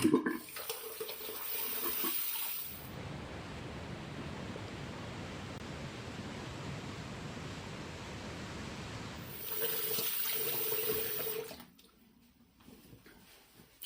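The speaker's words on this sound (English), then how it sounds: "Let's rinse off real quick." Cold tap water running into a sink as a face is rinsed after a shave with a Merkur 41C open-comb razor, a steady close splashing stream with brief pauses and louder bursts, stopping near the end.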